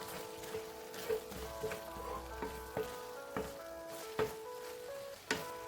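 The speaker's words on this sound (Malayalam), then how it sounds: "ഇതിലേക്ക് ആ തേങ്ങ ചിരവിയതും കൂടി ചേർക്കാം. നല്ലതുപോലെ ഒന്ന് മിക്സ് ചെയ്യുക." Cooked ripe plantain and freshly grated coconut being stirred in a pan: soft sizzling with intermittent spatula scrapes and taps at irregular intervals, over a steady tonal background.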